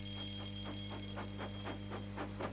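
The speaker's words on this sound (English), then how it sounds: "Soon came the alarm." A rapid electronic alarm bell rings in a children's audiobook about Thomas the Tank Engine, a fast repeating chirping pulse about four times a second, quiet and steady over a low hum, with no talking.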